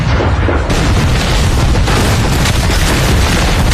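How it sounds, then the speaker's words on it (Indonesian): A dense, continuous mortar barrage in a war film rumbles loudly throughout, with deep overlapping booms and blasts forming a sustained roar of explosions and no speech. "langsung menyuruh pasukannya menyerang balas dengan hujanan mortir"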